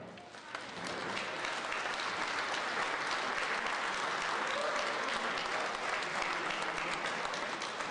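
An audience claps continuously at an anniversary evening event, a dense and even patter of many hands heard from some distance and fairly soft, with no break over eight seconds.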